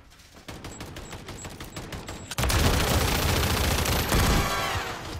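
TAQ Evolvere rifle fire in Modern Warfare multiplayer, a tight rhythmic burst of close shots that gives way to a loud, sustained roar of gunfire and explosions.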